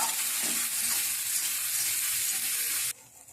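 Spinach paste for palak paneer goes into a hot pan and sizzles steadily while it is stirred, then cuts to near-quiet after about three seconds.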